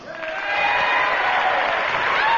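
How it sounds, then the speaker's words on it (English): A burst of audience applause builds quickly and holds steady, a crowd clapping together indoors. "Let's see your applause."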